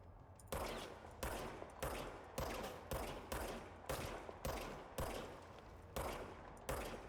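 Gunfire in the video game Control, a steady series of about eleven heavy, loud shots evenly spaced roughly every half second, each with a decaying tail.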